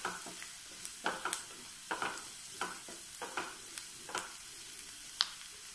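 Onion and curry leaves sizzle in a frying pan on a home stove, a soft, steady frying hiss broken by repeated scrapes and clicks of stirring, close and fairly quiet, with no voices.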